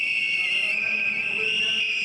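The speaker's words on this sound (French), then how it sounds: "L'opposition sort les sifflets pour bloquer les débats sur la loi électorale" Opposition members blow whistles inside a parliament chamber, the Palais du Peuple, during a debate on an electoral law. Several whistles blend into one steady, shrill, loud blast that holds without a break.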